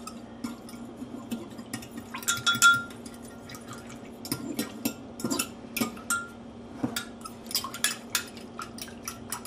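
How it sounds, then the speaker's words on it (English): A spoon clinks and scrapes against a cup while salt and sugar are stirred into warm water in a home kitchen during pizza-dough prep, making irregular close metallic taps with quiet gaps and no talking. "Stir those around to dissolve."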